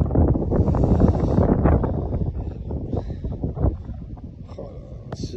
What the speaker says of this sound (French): Un petit peu de vent.